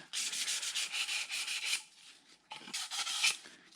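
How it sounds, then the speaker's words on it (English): Sandpaper lightly rubbed over a wooden box in steady back-and-forth strokes, a close, continuous rasping hiss that pauses briefly before resuming. "What I do is just take some sandpaper and just lightly sand it."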